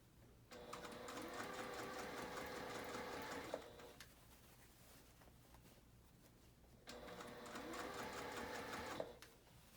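A home sewing machine runs in two sustained bursts, stitching the elastic casing of a dress, each run ending with a brief pause and a stop, close and clear with no talk.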